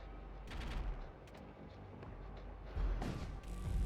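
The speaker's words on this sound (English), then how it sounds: "we can just keep shooting our bolt cannon here" Bolt cannon volleys in the Void War space strategy game, two bursts of crackling, thudding impacts separated by a quieter lull.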